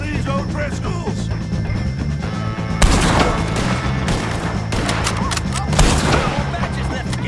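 Bursts of gunfire in Red Dead Redemption 2 during a shootout with O'Driscoll gang members, rapid loud shots in clusters with echoing reports, mixed with game dialogue and background music.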